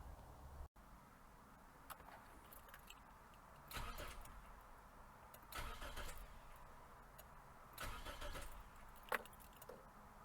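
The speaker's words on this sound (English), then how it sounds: "go ahead and crank the engine, get the belt settled" A Toyota Corolla engine cranks and catches after serpentine belt replacement, with several bursts of cranking and starting noise over a low idle, plus a short sharp click near the end.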